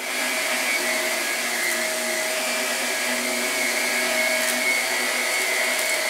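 A household vacuum cleaner runs steadily and loudly throughout, a continuous motor whine with a constant hum and no pauses or voices.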